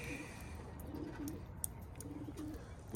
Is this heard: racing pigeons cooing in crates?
yes